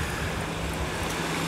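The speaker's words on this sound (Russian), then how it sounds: "На моторной лодочке гоняют люди." Steady wash of Azov Sea surf and wind with a faint low motor drone underneath, a motorboat out on the water at a distance.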